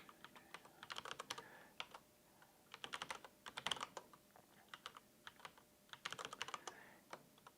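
Quiet, close computer keyboard typing in irregular clusters of crisp key clicks, with short pauses between bursts.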